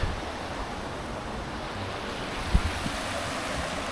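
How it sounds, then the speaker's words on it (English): The Yanuncay River in Cuenca, Ecuador rushes steadily as a broad, even wash of flowing water, with a few faint knocks partway through and no talking. "right here is the Yanuncay River"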